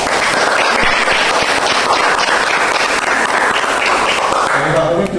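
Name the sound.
audience applause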